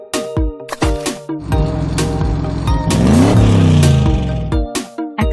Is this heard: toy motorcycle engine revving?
yes